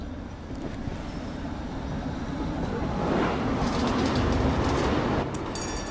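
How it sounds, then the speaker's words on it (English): A tram arrives in the video game Syberia: The World Before, a steady rail rumble with clattering wheels that swells midway and holds loud to the end, with a brief bright squeal near the finish. "But here's our tram."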